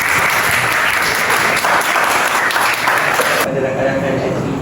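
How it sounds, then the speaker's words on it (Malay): A large crowd at a Southern Volunteers community event gives loud, dense applause that fills the space continuously, then thins into softer clapping and room murmur near the end. "Tepuk tangan untuk semua."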